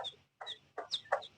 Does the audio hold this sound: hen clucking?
yes